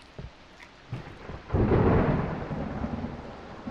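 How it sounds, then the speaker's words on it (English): Video game rainstorm effects: a heavy thunder rumble swells and lingers over a steady hiss of falling rain, preceded by a couple of soft thuds. "the rain effects in this game sound pretty good"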